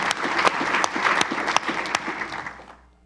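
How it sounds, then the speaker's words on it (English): An audience at a keynote panel of an MIT quantum hackathon claps in a brief round of applause, steady and moderately close, tapering off into quiet after about two and a half seconds. "Let's give Valeria a round of applause."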